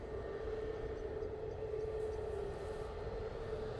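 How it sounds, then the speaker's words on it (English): An EasyJet Airbus A320neo lines up on the runway, its engines a steady, distant drone with an even hum that holds unchanged throughout. "EasyJet going to Malta and now lining up using their A320neo for this flight."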